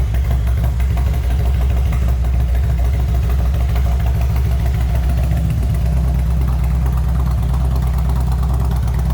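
A 1998 Harley-Davidson Road King Classic motorcycle idles steadily nearby, its deep, loud engine rumble continuous and even throughout with no talking.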